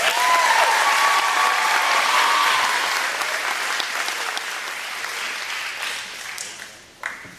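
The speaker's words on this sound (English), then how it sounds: "Have another round of applause for piano soloist Connor Fitch." Loud audience clapping at a school spring concert, a dense burst of many hands that gradually tapers off, with a brief scattered clap near the end.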